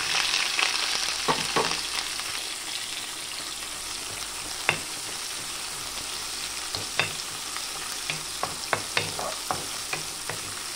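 Onions frying in a pan with mustard seeds, cumin and dried chilies for upma: a continuous hiss of hot oil broken by scattered sharp pops and stirring clicks, close and fairly loud, no voices.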